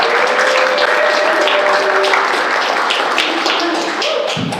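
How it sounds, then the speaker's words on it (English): An audience claps after a keynote talk at a Notion conference, a steady, fairly close round of applause with some voices calling out over it. "Can we get a round of applause?"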